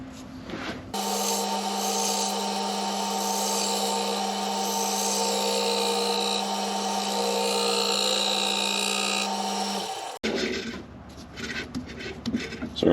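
A woodturning lathe tool cuts a bead into spinning wood that has a hole in it, giving a steady, close whirring hum with a rough rasping edge that runs for about nine seconds, then stops and leaves faint handling noises.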